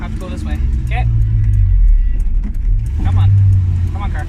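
A 1981 Mustang's engine rumbles low while cruising, swelling and easing as it pulls along the street, with a person talking over the drone.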